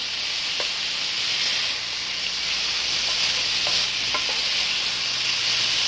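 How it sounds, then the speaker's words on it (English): Shrimp frying in a pan while being turned over, a dense continuous sizzle close by with a few faint utensil scrapes and taps scattered through it. "Keep turning them over from underneath so that the top shrimp will touch the pan as well."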